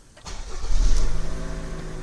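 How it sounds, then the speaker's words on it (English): A Toyota RAV4 engine cranks briefly via remote start, catches, and settles into a steady idle, loud and close. "We're going to start the engine."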